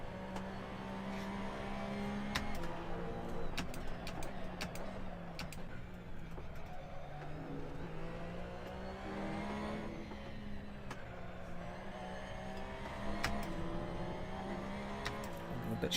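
A Porsche Cup race car engine in Assetto Corsa drones and whines continuously, its pitch rising and dipping through gear changes, steady and prominent with no talk.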